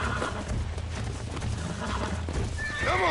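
A horse in the video game Red Dead Redemption neighs and stamps, with continuous hoof clatter and a loud, rising whinny near the end, close and alone without talk.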